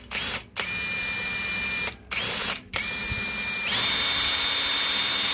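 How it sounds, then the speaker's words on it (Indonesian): A power drill whines in several short bursts with brief pauses between, ending in a longer, louder run as it bores a hole for a 10 mm bolt while repairing a broken radiator overflow hose mount. "Jadi kita bor dulu bagian ini lubangnya"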